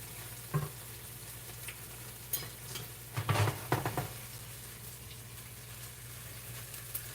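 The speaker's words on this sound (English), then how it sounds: "I'm just going to flip my burgers and I'm going to season the other side" Burgers fry in a pan and are flipped, a quiet sizzle running underneath with a few sharp spatula scrapes and clanks against the pan in a short cluster.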